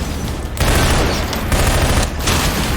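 Loud, close gunfire in Entropy: Zero 2 arrives in heavy bursts of rapid shots with booming impacts, packed tightly over a few seconds with brief gaps between volleys.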